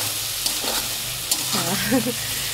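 Vegetables frying with spices in a pan, stirred with a steady sizzle and a few scraping strokes, close, while someone speaks briefly in Bengali over it.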